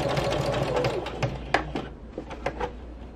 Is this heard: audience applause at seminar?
no